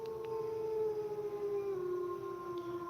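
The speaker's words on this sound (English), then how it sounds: "Awesome wolf howling compilation." Howling wolves from a played compilation recording, several long overlapping wavering tones sliding slowly downward, steady and moderately loud, with no talking.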